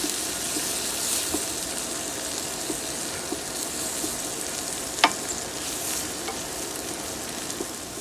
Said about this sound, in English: I'm just going to slowly stir the flour and the onions and peppers together